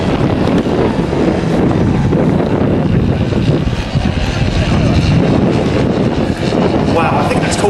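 Propeller aircraft flying a wing-walking air display at a Battle of Britain weekend show, a loud continuous engine drone buffeted by wind noise, with commentary voices running over it throughout.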